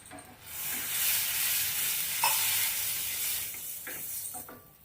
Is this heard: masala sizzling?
yes